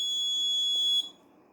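An electronic alarm emits a high, steady tonal beep for about a second, then cuts off, leaving quiet room noise behind; loud and close, with no talk.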